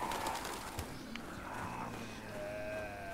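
Faint birds coo and call in the game Resident Evil 4 Remake over a soft, steady outdoor ambience, distant and low in level.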